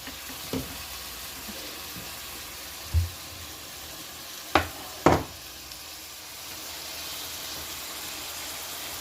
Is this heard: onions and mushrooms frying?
yes